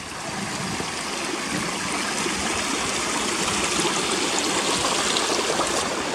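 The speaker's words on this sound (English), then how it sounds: "you've got to cross some fast moving streams coming down the hills" A fast-moving hill stream near the ruins of Gunnerside mine rushes steadily and loudly, a dense continuous roar of water that builds slightly over the span, with no voices.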